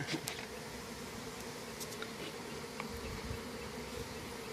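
Honey bees hum in a continuous, dense buzz at a beehive, fairly faint and close-sounding, with occasional individual bees passing nearby.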